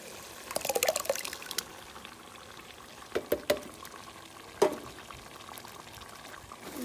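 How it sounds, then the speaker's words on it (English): Crushed tomato sauce from 28-ounce cans is poured into a pot for lasagna, giving soft glugging splats in a few bursts with a sharper plop near the end over a quiet kitchen background. "And we're gonna start putting in our tomato sauces."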